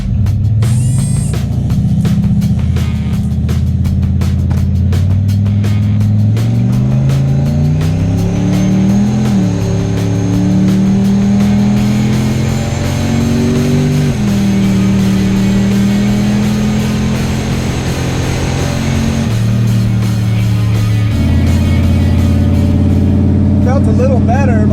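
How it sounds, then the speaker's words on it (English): A Camaro drag race car makes a test pass at LS Fest West, its loud engine revving through rising gear pulls and shifts close by and continuous. "So we're gonna go make another test pass and see how we go."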